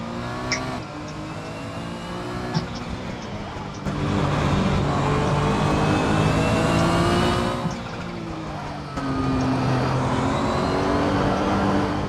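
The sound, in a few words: racing car engine in the video game Assetto Corsa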